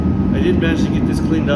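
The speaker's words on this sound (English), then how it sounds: "Sorry about the noise. Got the heater turned" A shop heater runs as a steady broadband hum throughout, with someone talking over it in a cold workshop in Alaska.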